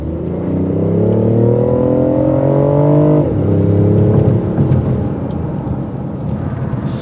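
A BMW i8 plug-in hybrid convertible pulls away with a loud, rising engine note that climbs steadily through a gear, then drops at the shift and carries on as a steady rumble with road and wind noise.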